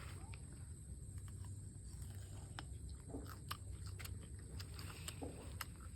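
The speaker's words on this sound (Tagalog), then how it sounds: "Titikman na natin ang quality pipino." Biting into and chewing a fresh, crunchy cucumber close up, with several sharp crisp crunches scattered over a steady low background rumble.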